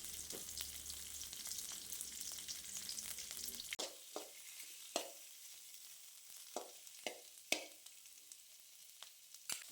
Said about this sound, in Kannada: ಲೋ ಫ್ಲೇಮ್ನಲ್ಲಿ ಫ್ರೈ ಮಾಡುವ